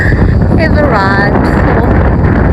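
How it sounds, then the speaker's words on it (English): Strong wind buffets the microphone outdoors on a cloudy day with loud, continuous rumbling gusts, with a voice faintly audible beneath the roar. "And it's getting windy and cloudy."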